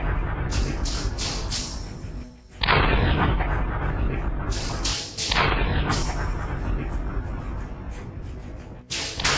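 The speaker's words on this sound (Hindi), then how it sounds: "जोरदार धमाके की आवाजों से इलाका गूंज उठा" Heavy explosions from airstrikes and rockets striking the Gaza Strip, heard as a run of loud, booming blasts that keep following one another across the clip, with no break in between.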